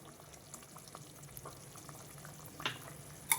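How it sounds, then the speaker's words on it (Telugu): Fish curry (chapala pulusu) simmers in a pot with a faint, soft bubbling, a few slightly louder pops near the end, quiet and close with no talking. "పులుసు బాగా మరుగుతుందండి"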